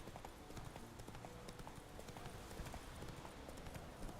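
Roach, Geralt's horse in the video game The Witcher 3, gallops with rapid, continuous hoofbeats at steady volume, close and clear, with a brief voice partway through.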